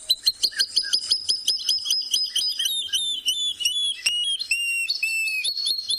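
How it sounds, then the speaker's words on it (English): A water thick-knee's call played back through a phone bird app outdoors on a South African safari, a rapid series of clear, high whistled piping notes that slide and waver, fairly loud and continuous, with no talking. "And that's the call of the water thickney."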